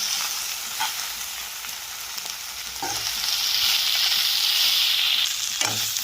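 Okra curry with turmeric stirred in a pan: a continuous bright sizzle and hiss, close up, broken by a few soft scrapes of the spoon.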